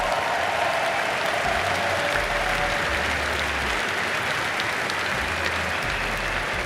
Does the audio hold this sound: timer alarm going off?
no